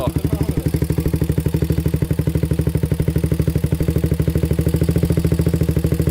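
Honda 400ex ATV engine running steadily at idle with a rapid, even thumping pulse and a slight tick, close and loud throughout.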